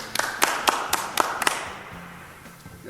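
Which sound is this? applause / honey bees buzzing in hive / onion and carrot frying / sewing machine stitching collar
applause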